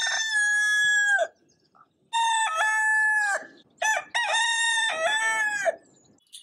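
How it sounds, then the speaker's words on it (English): A rooster crows loudly and close in three or four separate bursts with short silent gaps between them, clear and alone. "when roosters crow loudly"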